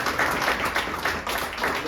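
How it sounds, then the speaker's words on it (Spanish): Audience applause at a book presentation, a steady wash of many hands clapping for about two seconds with a brief dip midway, fairly loud and continuous with no clear speech over it. "Un aplauso aquí para nosotros."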